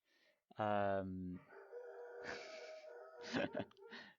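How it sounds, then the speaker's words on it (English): Dogs bark nearby, opening with one loud, drawn-out howling bark, then fainter yelps and rustling that carry on to the end. "dogs are out again"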